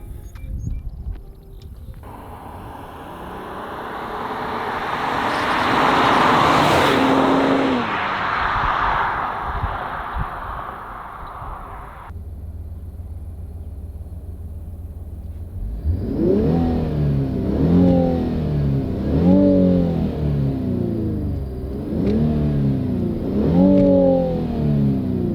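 An Infiniti Q60 Red Sport 400 engine roars through a long loud rev, then settles into a lower drone. It follows with repeated rising and falling revs, close and prominent with no talking.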